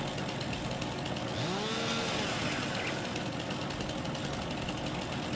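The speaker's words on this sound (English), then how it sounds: "Chainsaw time." A chainsaw in Farming Simulator 19 runs continuously with a loud, buzzing engine drone, rising in pitch briefly as it revs into a cut, with no talk.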